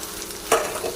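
Tomato frying in a pan for a coconut and taro leaf dish gives a brief steady sizzle with one quick stirring scrape midway, close and fairly loud, without talk.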